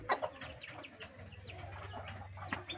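Backyard chicks cluck and peep softly and close, small scattered calls over a faint low background hum.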